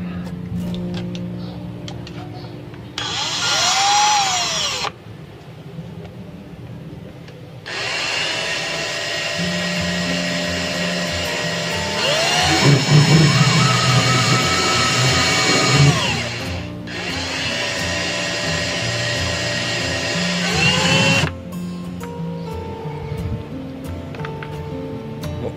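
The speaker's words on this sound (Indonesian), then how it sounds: "sekarang kita coba dengan bor" An electric drill whirs at low speed in three separate bursts, spinning a stepper motor used as a generator, with a steady motor hum that rises and falls between short pauses.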